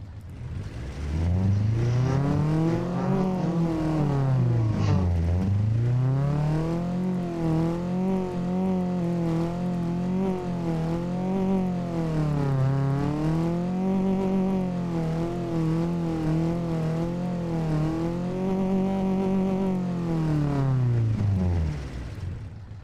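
A carbureted 1949 roadster engine in the Automation car-building game revs up and down continuously, its steady droning pitch climbing and falling in smooth waves, loud and close with no talking.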